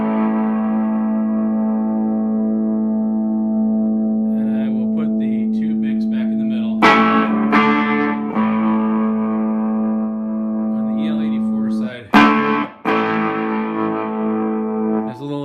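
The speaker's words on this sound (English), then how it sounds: "we'll go over here to the overdrive channel" Electric guitar played through an Egnater Rebel 30 amp on its overdrive channel, with distorted sustained chords ringing out and two sharp strummed attacks, loud and close.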